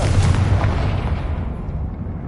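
A Confringo spell explodes in Hogwarts Legacy with a loud, booming blast at the start whose rumble then decays and fades away on its own.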